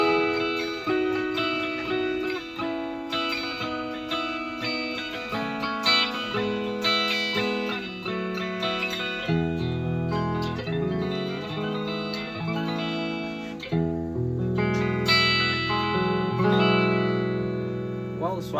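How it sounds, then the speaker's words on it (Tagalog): Electric guitar played through its bridge pickup with volume and tone turned fully up on an upgraded budget instrument, a continuous run of sustained notes and chords with bright harmonics and effects, sounding close and steady throughout. "Tapos dito na tayo sa bridge pick up niya."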